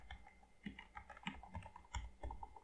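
Keys clatter on a computer keyboard in quick, uneven bursts of clicks, close and fairly quiet, with no voices.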